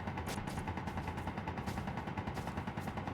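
Automated turrets in Space Engineers rattle off rapid, continuous gunfire around a derelict wreck, a dense, steady stream of shots heard from a little distance and fairly faint, with no pauses across the clip.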